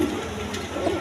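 Damachi pigeons give a brief, soft, rolling coo at the start and another near the end of a short moment, heard up close against a faint steady background hum.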